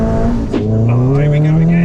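A Renault Clio 172 engine revs hard, its tone dropping sharply at an aggressive gear change and then climbing steadily again as the car pulls, loud and continuous with a voice briefly over it.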